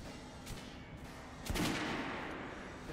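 A firearm goes off on a shooting range in Metro: Last Light Redux, a couple of sharp reports, the louder one ringing out with a short tail, no talk.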